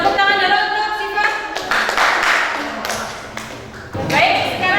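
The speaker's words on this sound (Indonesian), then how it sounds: "tepuk tangan dulu untuk Syifa." Students in a civics classroom clap for a classmate, a short scattered patter of hands mixed with voices talking over it, fading and then briefly picking up again.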